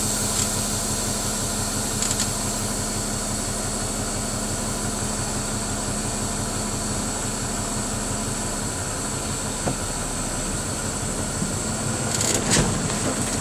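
Truck creeping along at about 5 miles per hour during a Knight Transportation pre-trip brake check, its engine a steady low rumble with a rhythmic throb, close and continuous, a few faint clicks and rattles near the end.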